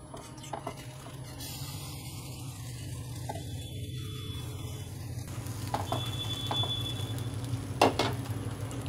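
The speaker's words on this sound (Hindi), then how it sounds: "ये जो चावल हमने पीस कर रखे उसे धीरे धीरे करके हम डालते जाएंगे और चम्मच की मदद से इसे मिलाते जाना है" Ground rice flour being stirred into boiling water with a spoon while making potato rolls: a steady close bubbling and sizzling hiss with soft scraping, swirling spoon strokes throughout, and a few sharper clinks of spoon against the pan near the end.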